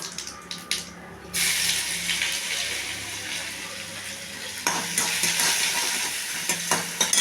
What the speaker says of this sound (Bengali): জিরে ফোড়ন দিচ্ছি